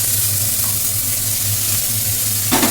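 Boiled chickpeas tipped into a pan of frying homemade spice masala set off a loud, steady sizzle and hiss, with a brief stirring scrape near the end and no voices.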